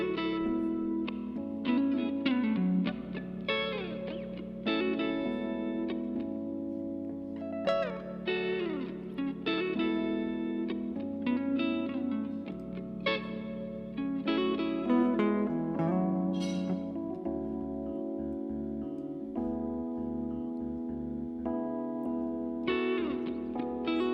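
Music played through a UA AKG BX-20 spring reverb plugin: a dense instrumental track with guitar-like notes and chords washed in a long, splashy reverb tail, running continuously at moderate level.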